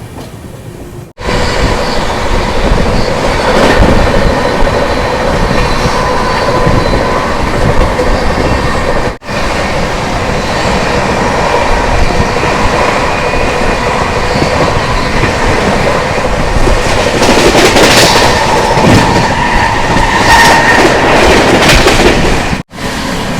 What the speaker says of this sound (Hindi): फाइनली अपनी ट्रेन का रास्ता साफ है